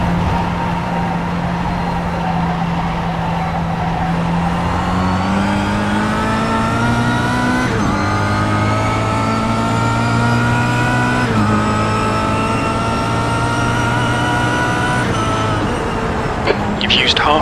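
Race car engine in a racing video game, a loud sustained drone that climbs steadily in pitch through the gears with several shift drops during a lap, heard under someone talking.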